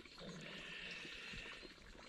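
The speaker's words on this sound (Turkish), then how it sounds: "Bir de yanımdaki çeşmenin sesi var" Water running steadily from a mountain fountain among fir trees on Uludağ, a soft continuous splashing trickle heard close by at low volume with nothing else over it.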